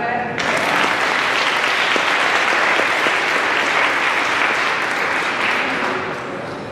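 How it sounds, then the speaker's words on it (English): Audience applause at a live onstage conversation event with a chef, a dense, loud, sustained clapping from a large crowd that starts abruptly and continues for several seconds before easing off at the end. "Can we get a clap for that?"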